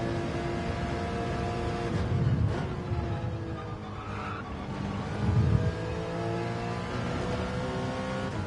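Racing car engine in Gran Turismo 7 at Interlagos, a steady loud drone with layered harmonics that swell and dip as revs rise and fall, running continuously throughout.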